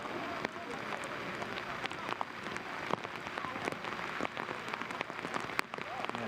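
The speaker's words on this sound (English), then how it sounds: "now you can really hear that rain in our mics" Steady rain hisses over outdoor broadcast microphones at a U-18 Baseball World Cup game between Nicaragua and Korea, a dense patter with scattered sharper drop hits throughout.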